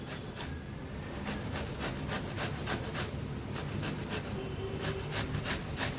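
Bottle gourd (dudhi) is grated coarsely by hand for halwa, giving a steady series of close, rhythmic rasping strokes, roughly two per second, with no talking.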